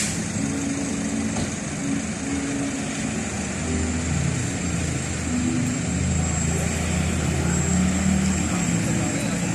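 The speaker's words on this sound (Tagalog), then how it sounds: "Yan ang drone." Drone flying overhead during the Kawit Day parade, heard as a steady whirring drone over crowd noise and street sounds, with people talking throughout.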